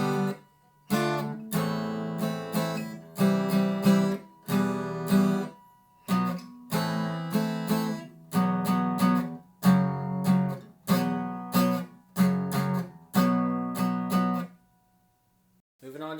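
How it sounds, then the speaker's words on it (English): Guitar plays the full bridge or interlude section of a song, a long run of strummed chords in a steady rhythm with short gaps between groups, close and clear with no voices, ending in a brief pause. "this bridge or interlude section sounds like this"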